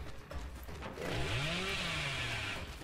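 Chainsaw revving in the horror game Dead by Daylight, a rising whining engine tone that builds after a second and holds steady, loud and continuous.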